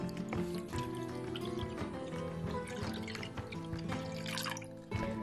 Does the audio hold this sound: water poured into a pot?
yes